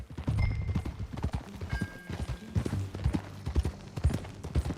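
Horse hooves clip-clop steadily at a riding pace in Red Dead Redemption 2, close and fairly loud, with a low rumble of movement beneath the rhythmic beats and no talk.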